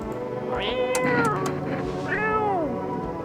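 A cat in the game No I'm Not a Human gives two clear, close meows, each rising then falling in pitch, over a low room hum with no talking.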